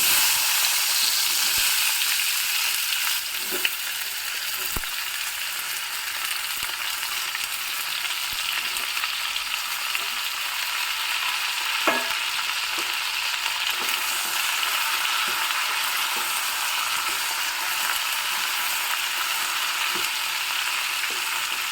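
Chopped ivy gourd and curry leaves frying in a pan for a traditional Udupi-style dish, a steady soft sizzle throughout with a few occasional clicks and scrapes of stirring.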